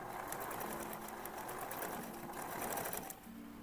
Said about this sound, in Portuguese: E vou passando a costura de segurança em volta.